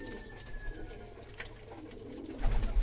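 Pigeons in a breeding loft give soft, low cooing calls, faint and somewhat distant over a quiet background, with a brief rumble near the end and no voices.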